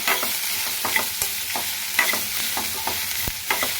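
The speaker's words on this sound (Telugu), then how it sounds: "సన్నగా తరిగిన కాకరకాయ ముక్కలు వేసుకోండి. వేసుకున్నాక బాగా కలియదిప్పండి." Thinly sliced bitter gourd frying in oil with tempering spices in a pan, a constant hissing sizzle broken by frequent quick scrapes and taps of a spoon stirring, close and steady with no voices.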